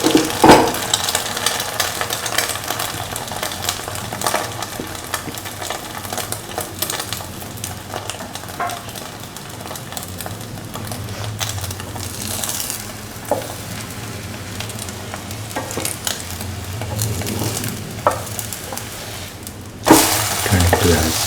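An egg-dipped bread sandwich fries in a pan, giving a steady close sizzle that runs throughout with occasional scraping and clatter, and a brief louder knock near the end.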